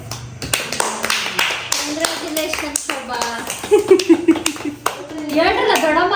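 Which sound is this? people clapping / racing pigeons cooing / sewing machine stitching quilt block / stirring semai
people clapping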